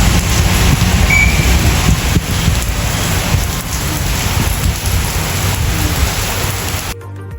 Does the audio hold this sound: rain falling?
yes